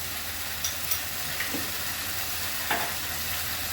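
Ground chilli, cumin, turmeric and coriander spices fry and sizzle steadily in a pan for masala okra, a constant close hiss with a few soft stirring scrapes.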